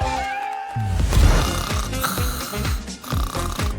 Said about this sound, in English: Is she snoring?